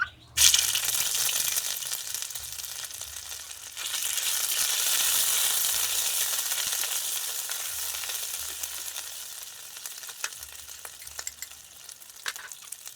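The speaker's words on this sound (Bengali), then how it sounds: "কড়াইতে অল্প করে সরিষার তেল দিয়ে দিচ্ছি এই তেলে দিয়ে দিচ্ছি এক চামচ আদা রসুন একসঙ্গে বাটা" A sharp hiss as ginger-garlic paste hits hot mustard oil in a wok, settling into a steady, close sizzle that lasts throughout with faint stirring scrapes.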